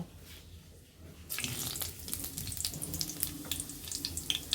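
Cumin seeds hit hot oil for a chicken dish, and after a quiet start a loud crackling sizzle bursts up and keeps popping close by, with no one talking.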